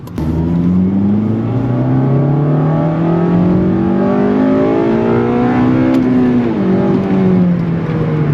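An 8th-generation Honda Civic Si with a K&N drop-in air filter revs hard through the gears, its engine note climbing steadily as VTEC engages. The sound is loud, close and continuous, with no talking.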